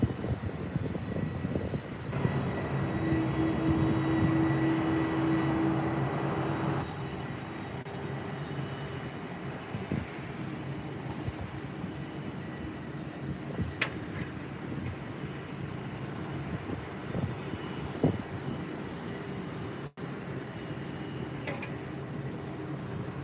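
An Airbus A320 jet departing Heathrow at night, bound for Belfast, gives off a steady distant engine roar that swells early on and then settles into a continuous rumble with occasional faint clicks.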